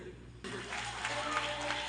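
Audience applause at a live konpa concert: after a brief quiet moment, a dense wash of clapping and crowd noise starts up and carries steadily at full strength, with band tones sustained underneath.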